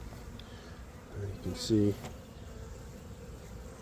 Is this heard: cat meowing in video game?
no